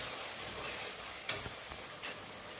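Prawns cooking in a pan with curd sit under a soft, steady sizzle, broken by a sharp clink near the middle and a brief louder splash of water being added shortly after, all close and quiet.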